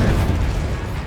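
A dense, roaring burst from the Confringo fire-blast spell in Hogwarts Legacy on PS5, loud and sustained for about a second with no gaps, close and overwhelming.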